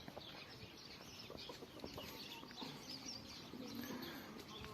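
A busy, continuous barnyard chorus of chickens clucking and murmuring at a distance, with other birds mixed in and no one speaking, at an animal enclosure in Üreğil Nation Garden park.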